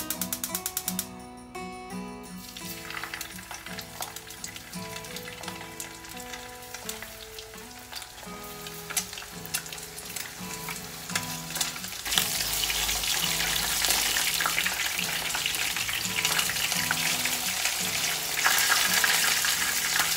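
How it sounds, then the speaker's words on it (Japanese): Steady crackling sizzle of starch-coated cod frying in hot oil, growing louder and denser partway through, with faint clinks over background music. "では魚を揚げていこうと思います。"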